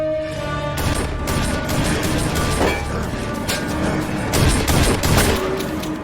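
Heavy gunfire from a Stargate Atlantis episode, with dense rapid bursts of shots and crashing impacts rolling on loudly over a booming score for several seconds.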